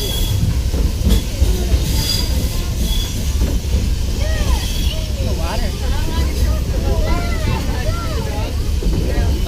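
A Disney World Railroad train rumbles steadily along the rails with squealing wheels and metallic screeches rising over the constant roar, heard from close by the whole time.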